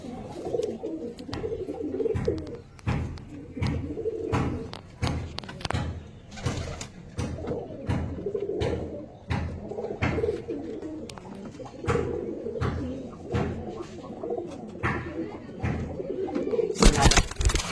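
Andha Fulshira pigeons coo steadily in a loft, a dense layering of throaty calls repeating throughout, with wing flaps and a brief rustle near the end.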